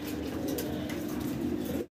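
A pigeon coos in a low, steady, throaty drone that runs unbroken for nearly two seconds and then stops abruptly, close by with no talking over it.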